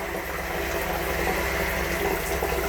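Cold water runs from a shower into a jug, a steady loud rushing pour with no change or pause throughout.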